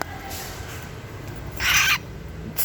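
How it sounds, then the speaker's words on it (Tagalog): One brief, raspy bird call sounds nearby over steady background hiss, followed by a fainter short squawk. "Ano yan? Uy, ibon yan."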